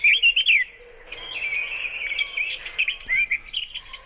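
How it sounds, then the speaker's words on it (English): A blackcap sings a bright, warbling territorial phrase close by, with a softer continuous twittering behind it and a distant wood pigeon in the background. "this is a sound of a blackcap establishing his territory"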